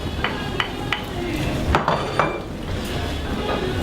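Onions dropped into a pot for lamb curry, a few sharp clinks and knocks of a utensil against the pot over a low sizzling bed, close and moderately loud.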